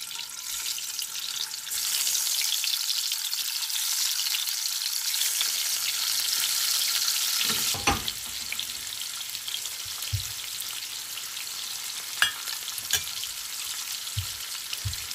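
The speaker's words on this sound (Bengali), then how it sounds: "এখন আমি ডিমগুলো একটু হালকা ভাজা দিয়ে নেব।" Eggs frying lightly in hot oil in a pan give a loud, dense, continuous sizzle that later settles, with a few soft knocks and scrapes from a utensil, close up and without speech.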